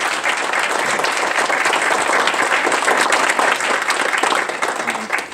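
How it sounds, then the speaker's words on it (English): Audience at a town of Plattsburgh meeting gives a round of applause, dense steady clapping close and loud throughout, tapering slightly at the end. "Can we give her a round of applause?"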